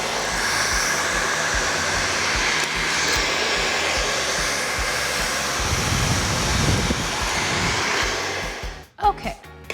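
A hair dryer blows hot air onto hair while smoothing it straight, a loud continuous whoosh that holds steady for most of the stretch before cutting off near the end.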